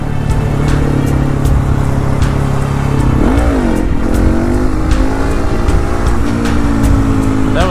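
A KTM 701 motorcycle engine revs loudly and close for a wheelie attempt in winter, a steady drone that rises sharply, then climbs and holds as the bike pulls away.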